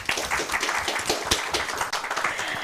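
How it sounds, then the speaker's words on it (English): An audience at a Victory Day talk show claps together in a brief, moderately loud burst of applause that holds steady for a couple of seconds. "So I think Collie deserves a big round of applause."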